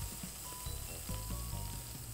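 Raw salmon frying in a video game, a steady, soft sizzle with faint rhythmic clicks underneath, heard alone at low volume for a couple of seconds.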